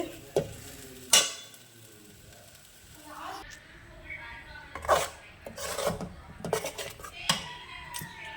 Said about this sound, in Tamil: அந்த பொடியை போட்டுக்கலாம். போட்டு கிளறி விடுவேன்.